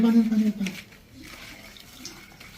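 Water runs from a tap at a toilet during a day out with brothers, a steady soft rush under a voice at first, then continuing more quietly on its own.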